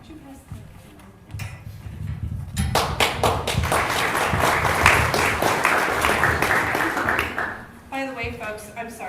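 An audience at a county candidate forum breaks into steady applause lasting several seconds, building after a quieter opening and fading as a voice begins speaking.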